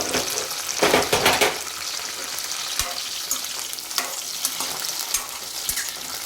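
Green chillies frying in hot oil in a pan for ridge gourd chutney, a steady close crackling sizzle with a few louder bursts and sharp pops early on, then continuing evenly with occasional clicks.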